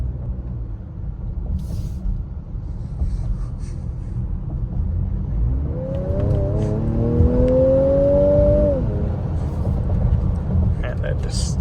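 A 2023 Ford Edge ST engine rumbles low inside the cabin, then a rising whine climbs for a few seconds as it accelerates before easing off under steady road noise.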